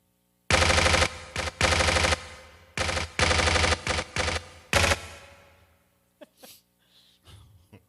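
Machine gun sound effect played on a talk show: several loud, rapid bursts of rattling fire in short clusters, followed by a few faint scattered noises and quiet.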